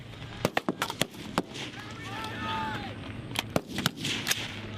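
A machine gun fires in sharp bursts during a US Marines heavy weapons live fire exercise. The reports crack loud and close in uneven clusters over a low engine hum, and a faint whistling sweep passes midway.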